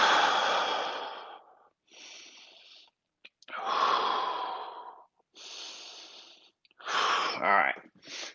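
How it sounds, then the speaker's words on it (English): Slow, deep breaths held during a yoga pose in a live morning session, several long airy inhales and exhales with short pauses between, close and clear. "And 3 breaths there."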